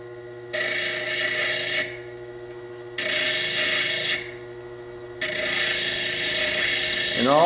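A rotary grinding wheel works a fire agate stone, smoothing and doming it, with three loud rasping bursts over a steady motor hum, close up and alone.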